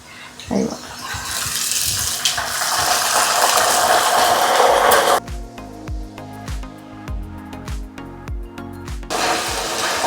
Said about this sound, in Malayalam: ഉപ്പ് പൊടിയെടുത്ത് വെള്ളത്തിൽ കലക്കി വെച്ചിരിക്കുവാണ്. ഒരു ചെറിയൊരു പൊട്ടിത്തെറിയൊക്കെ പ്രതീക്ഷിക്കാം.